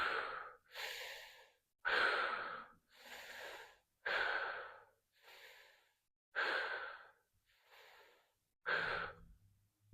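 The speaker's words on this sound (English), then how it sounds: "we'll start to take shorter and quicker breaths" Short, quick breaths in a breathing exercise: sharp, forceful inhales and exhales alternating in a steady rhythm, close and clear, about nine in ten seconds with brief pauses between.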